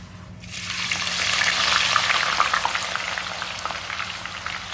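Potato chips frying in hot oil for an evening snack: a loud, steady sizzling hiss that swells after a sudden start and holds dense and close throughout.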